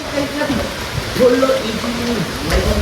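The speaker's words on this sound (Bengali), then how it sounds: "বৃষ্টি হচ্ছে" Rain falls steadily outdoors during construction work, a soft, even patter and hiss heard throughout, with someone talking over it.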